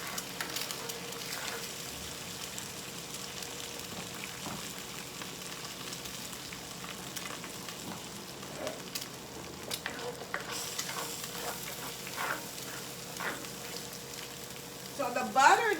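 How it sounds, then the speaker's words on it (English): Stir-fry rice frying in Blue Bonnet butter while being stirred: a continuous gentle sizzle with repeated spatula scrapes and light clatter across the pan, close and moderately quiet, with no talk. "I'm going to go ahead and stir it."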